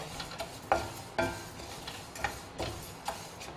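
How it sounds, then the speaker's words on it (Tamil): Dry lentils rattle and scrape in a pan roasting over medium flame, with a few sharper clicks of stirring spaced through the quiet background. "பேன் சூடாயிடுச்சு, அதில் நம்ம பருப்பு போட்டுக்கலாம். நல்லா மீடியம் ஃப்ளேமில் வச்சு இது வறுத்துடலாங்க"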